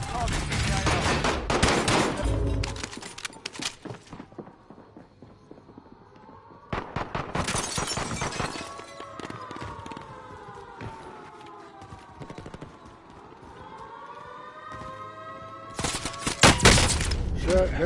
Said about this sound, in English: Shit, getting shot at already.